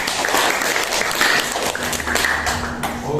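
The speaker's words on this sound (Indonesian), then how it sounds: "Tepuk tangan dulu untuk teman." Classmates in a classroom applaud a fellow student, steady clapping from many hands filling the room at close range for a few seconds, with no talk over it.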